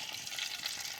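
Fish fry in hot oil while cooking outdoors in a village, giving a dense, even sizzle that is steady and close.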